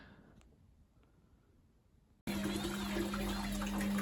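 Quiet room, then grubby water suddenly gushes out of a Candy Grand O Vita washing machine draining after a rapid wash, a loud, steady rushing stream continuing without pause.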